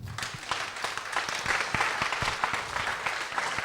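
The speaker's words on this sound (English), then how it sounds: "An applause, please" A crowd applauds steadily, dense clapping from many hands sustained at an even level throughout.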